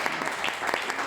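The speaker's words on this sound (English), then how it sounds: "Give a big round of applause for Joshua Scigala." A meetup audience applauds with dense, continuous clapping from a crowd indoors, fairly loud throughout the brief moment.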